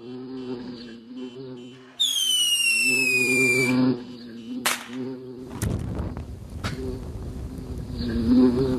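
A loud insect buzz hums close by, joined by sharp whistling and crackling bursts, with a rough noisy roar building toward the end.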